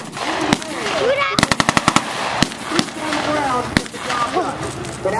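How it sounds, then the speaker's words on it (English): Machine gun fire in a marine assault scene, a rapid burst of sharp loud shots followed by scattered single cracks, heard under and between people talking. "they're shooting so loud that it almost made me fall"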